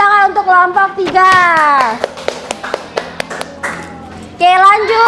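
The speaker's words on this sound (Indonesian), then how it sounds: "beri tepuk tangan untuk kelompok 3" Schoolchildren in a classroom clap for a student group, a run of sharp separate hand claps that rises and falls between loud stretches of child and adult speech.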